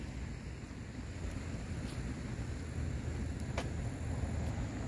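Flash flood water from the Nueces River in Texas spills over a highway after heavy overnight rain, making a steady, continuous rushing roar mixed with wind buffeting the microphone.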